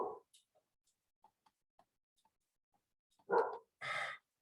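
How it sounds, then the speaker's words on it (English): Dog barking in a quiet room, two loud close barks near the end after a few faint ticks and small sounds. "I gotta try to go shut this dog up."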